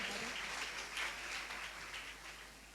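A church congregation claps together in sustained, moderately distant applause, a dense patter of hands with no voices.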